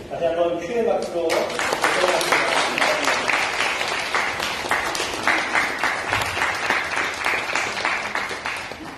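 A church congregation applauding after infant and adult baptisms, a full room of steady clapping that starts after a brief spoken moment and continues loudly throughout, with voices faintly underneath.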